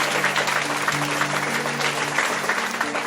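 A church congregation claps for Jesus in a dense, steady burst of applause from many hands, sustained and fairly loud throughout.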